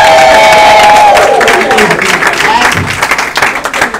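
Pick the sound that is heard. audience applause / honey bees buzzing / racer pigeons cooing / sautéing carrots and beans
audience applause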